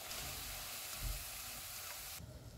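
Mixed vegetable pakoras deep-frying in oil over a low to medium flame, a faint, steady, hissing bubble that runs evenly throughout and softens slightly near the end.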